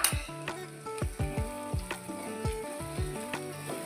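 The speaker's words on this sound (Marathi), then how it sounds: "छान असं भाजून घ्यायचा आहे हा मसाला." Ginger, garlic and fresh coconut paste fries in a pan, a steady close sizzle broken by regular clinks of a spoon stirring, with a faint musical background.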